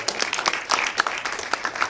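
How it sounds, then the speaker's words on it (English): Clapping rises from the audience at a speaker summit, a fairly close patter of distinct hand claps with uneven rhythm, moderately loud. "one more round of applause, huge"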